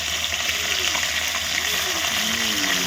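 Fish fries in a pan over an outdoor village cooking fire, a steady close sizzle and crackle of hot oil running without break, with faint talk in the background.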